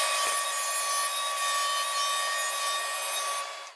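A power saw ripping sapele wood into strips, a loud sustained whining cut with a steady tonal hum that holds and then fades out at the end.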